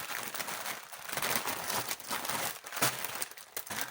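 A small plastic pouch crinkles and rustles continuously as it is handled close by, with irregular crackling bursts and no speech.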